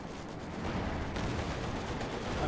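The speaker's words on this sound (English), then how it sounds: "Mortar firing down, getting these through the pioneers" Muffled, rumbling combat from Company of Heroes 2, with mortar and gunfire blending into a dense, continuous roar of distant explosions and shots.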